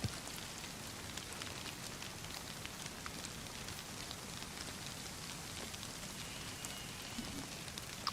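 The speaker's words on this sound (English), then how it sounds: "I apologise for the rain." Steady rain pours down in the survival game DayZ, a dense, even hiss with scattered drop patter that runs unbroken throughout, with no one speaking.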